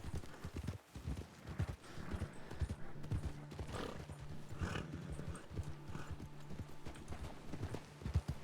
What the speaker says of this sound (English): So we're getting up to a full canter.